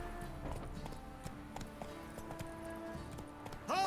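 Hooves clip-clop in a quick, steady rhythm as Roach gallops in The Witcher 3, with game music playing underneath. A horse's whinny rises briefly at the end.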